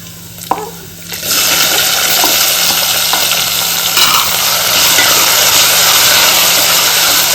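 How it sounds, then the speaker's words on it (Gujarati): Potatoes and tomatoes cooking in hot oil for a Gujarati potato-tomato curry, a loud steady sizzle that swells after a brief quieter start and holds to the end, with no talking. "મિક્સ કરી દેશું અને તેલમાં ચડવા દેશું"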